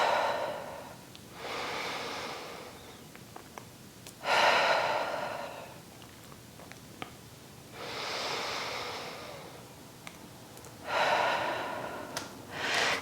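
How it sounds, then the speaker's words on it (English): Slow, deliberate breaths during a Pilates mat stretch, drawn in through the nose and pushed out through the mouth, four long airy exhales in a steady rhythm, close and fairly quiet, with no talking. "We're breathing in through the nose and out through the mouth."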